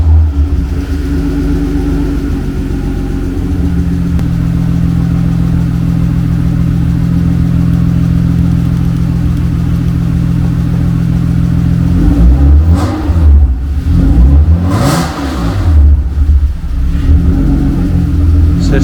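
A racecar engine idles loud and close with a steady, even drone, then is revved hard in several sharp bursts that surge and fall back.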